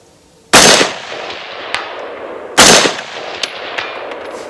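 Two loud, sharp gunshots from a Springfield Hellion 5.56 bullpup rifle fired outdoors at steel targets, about two seconds apart, each followed by a decaying echo and a faint distant ping of the bullet striking metal.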